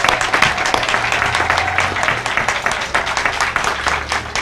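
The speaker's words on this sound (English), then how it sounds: "Join me in applause for" Audience applause at an evening lighting ceremony, a crowd clapping in a loose, uneven patter of distinct claps, fairly close and loud, with a low hum beneath.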